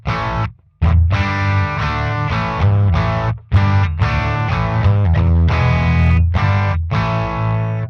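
Electric guitar through a 1966 single-ended, non-master-volume Maton valve amp, loud and overdriven, with chords and riffs broken by short gaps and no talking.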